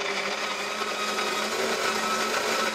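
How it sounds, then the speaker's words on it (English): Up close, a De'Longhi burr grinder set fine grinds coffee for espresso, giving a steady, loud, even whir with no talk over it. "Press the on-off button once to start the grinding process."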